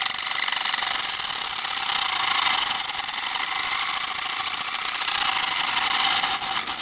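A small remote control car motor drives a homemade craft-stick sander, whirring at high speed with a steady, buzzing grind, running continuously without pause.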